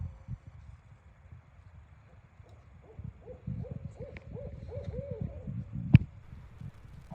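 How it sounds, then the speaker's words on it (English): Owls hooting from trees around a Missouri campsite on a cool evening, a run of repeated rising-and-falling hoots in a steady rhythm, moderately distant over low rumbling wind. "You can hear him calling the owl's response."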